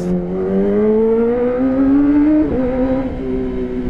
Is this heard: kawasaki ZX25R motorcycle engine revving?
yes